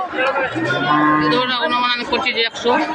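At a cattle market, a cow with six teeth and her week-old calf moo loudly and close, drawn-out calls overlapping, with crowd chatter and voices in the background.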